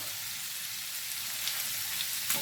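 Shrimp fry in a pan with a soft, steady hiss at low volume, a fairly distant-sounding sizzle with a couple of faint pops near the end.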